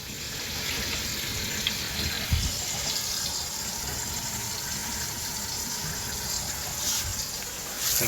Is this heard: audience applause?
no